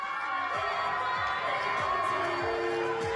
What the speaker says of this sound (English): Big cheer as well.